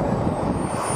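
A model trainer airplane's engine drones steadily and fairly loud, a continuous buzzing hum with no breaks and no talk.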